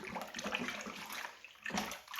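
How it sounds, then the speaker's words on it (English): An upstairs household tap runs water, drawn while brewing a homemade lager, making a steady, fairly quiet splashing rush with a brief change in the flow near the end. "Just going to use the upstairs tap water."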